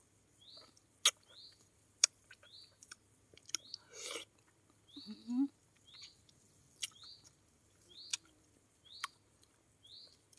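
Soft, close crunching and chewing of sour cherries coated in fish sauce and chili powder comes in scattered bites, while birds chirp steadily at regular intervals in the background.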